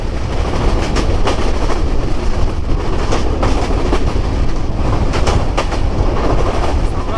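Riding aboard the luxury Sundarban Express from Dhaka to Khulna in Bangladesh, a loud, steady rumble of wheels on the rails carries a continuous rhythmic clickety-clack throughout.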